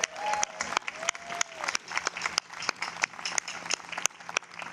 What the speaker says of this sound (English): can we give one more round of applause for the All-City Jazz Band under Mr.